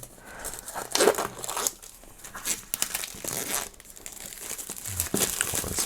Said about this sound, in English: we need a little knife to remove the plastic